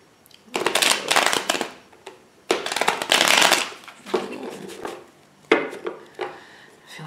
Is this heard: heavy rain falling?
no